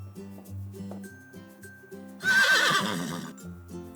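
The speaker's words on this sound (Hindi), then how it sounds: "हॉर्स, आ जाओ प्यारे घोड़े, गर्म खलिहान में तुम्हारा इंतजार है।" A cartoon horse lets out a single bright, loud whinny midway, set against a soft musical background, in a children's cartoon about a horse being led to a warm barn.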